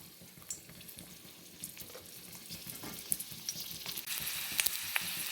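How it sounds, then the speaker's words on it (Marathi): Stuffed bitter gourds fry in a little oil in a kadhai, a faint sizzle that grows louder and crackles with sharp pops toward the end. "इथे कढईमध्ये थोडंसं तेल घालून घेतलं आहे आता मी कारले सगळे यावरती ठेवून देते"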